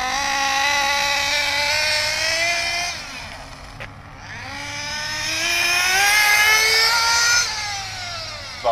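An engine being broken in, held at about three-quarter throttle, whining loud and steady with its pitch dipping and climbing again partway through, close by and alone.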